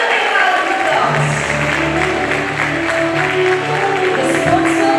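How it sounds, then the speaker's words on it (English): Audience applause at a graduation ceremony, steady clapping from a crowd filling the hall for five seconds, with some voices mixed in underneath. "Give him a big round of applause."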